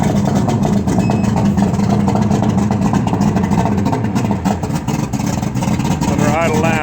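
The engine of a 1998 Stratos 201 Pro Elite bass boat rumbles loud and close at a steady idle throughout, with someone talking over it.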